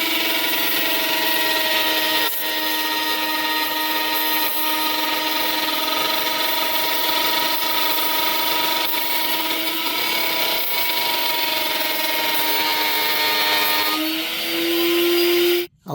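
A power router cuts wood while shaping a Christmas tree template for a charcuterie board, giving a steady, loud, continuous whine that holds for the whole stretch and cuts off abruptly right at the end.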